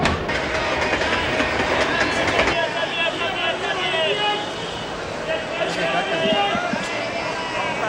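Passenger train in Bombay rumbling along the rails with a rhythmic clickety-clack of wheels over track joints, steady and fairly close, while people talk over the noise.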